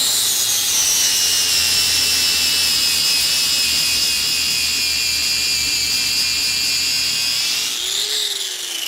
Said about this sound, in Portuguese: Agora eu vou dar acabamento com o disco flap na outra metade